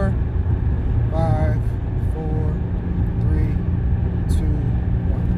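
Car fitted with a Jemini Y-pipe and Evil Energy exhaust cruising on a highway at about 3,500 RPM and 75 mph, a steady engine and road drone heard from the cabin, with a person talking over it.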